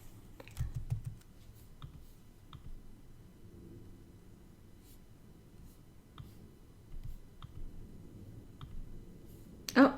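A computer mouse clicking while someone fills in an online tax form, with a few faint, sparse clicks and light desk handling sounds over quiet room tone and a sharper click at the end.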